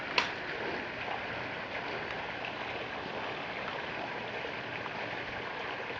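Steady flow of water in a backyard pond, a continuous broadband wash of trickling and splashing that holds even and unbroken throughout, moderately close and alone without voices.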